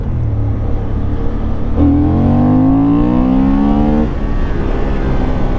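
Honda Hornet 750 motorcycle in second gear, throttle opened hard for a few seconds: engine note rises steeply then cuts back, over steady road and wind rumble.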